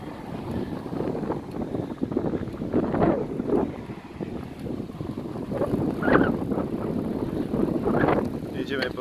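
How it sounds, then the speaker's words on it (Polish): Steady wind buffeting a microphone outdoors, a low roaring rush that swells and gusts throughout, with faint voices mixed in. "Jedziemy pod wiatr, także będziemy wracać z wiatrem."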